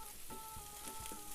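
Carrots and onions fry in a pan on the stove, giving a faint, steady sizzle with soft crackles and the occasional light pop.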